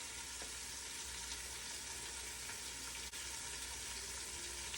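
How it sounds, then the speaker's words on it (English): Continuous crackling sizzle of food frying in a pan, steady and fairly quiet throughout with no talking. "if y'all hear all that sizzling, I've got supper going in the background"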